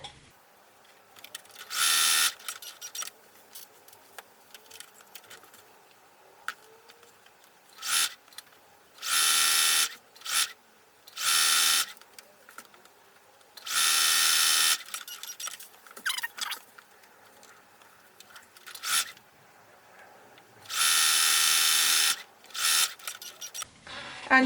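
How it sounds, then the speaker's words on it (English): A sewing machine stitches pieces of scrap fabric together in several loud, rapid bursts of whirring, separated by quiet pauses and small handling noises, with no talking. "So now I would like to sew those two together"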